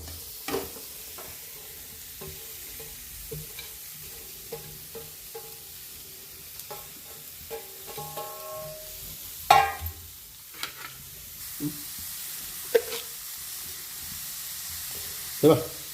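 Three medium onions frying in a spoonful of oil in a pan, a soft steady sizzle broken by scraping and clinking as a spoon stirs them, with a few sharper clatters toward the end.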